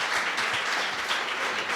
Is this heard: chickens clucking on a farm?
no